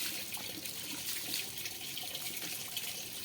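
A bucket of water is poured over a German Shepherd during a bath, making a continuous close splash and gush of falling water.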